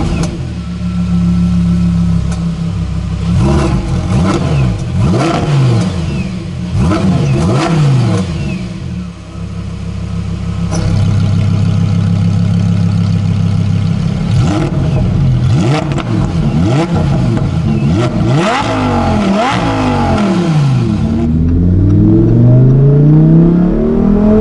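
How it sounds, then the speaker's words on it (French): A Lamborghini Huracan Performante S fires up and revs hard, its loud engine rising and falling through repeated sweeping blips between steadier idle stretches, ending with a deep rising roar. "Pour démarrer la voiture, faut lever la sécurité et ensuite appuyer sur le bouton"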